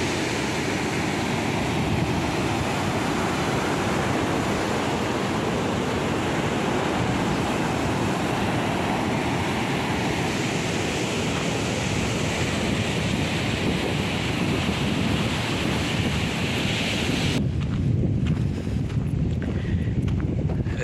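Sea waves surge and crash steadily beside the runway of an old former airfield near the shore, a loud, continuous roar with wind buffeting the microphone and no voices.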